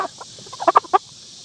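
Young rooster clucking close by on a farm, a few soft clucks followed by a quick cluster of louder clucks over a faint steady hiss.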